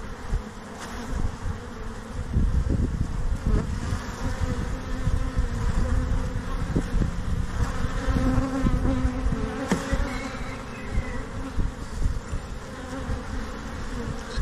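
A large honeybee swarm hums in a steady, dense buzz that stays loud and close throughout, with individual bees droning past now and then and no talking.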